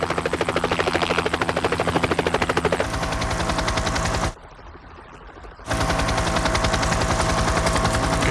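Helicopter flying overhead, a loud, rapid rotor chop that dominates throughout, with sustained bursts of machine-gun fire, then a brief near-silent gap before the rotor thumping returns at full strength.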